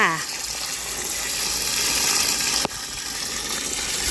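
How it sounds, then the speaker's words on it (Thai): Water gushes steadily over chinda chilies as they are washed clean of their stems, a broad continuous running-water sound with a brief splash or knock midway. "เด็ดก้านออกนะคะนำมาล้างให้สะอาดค่ะ"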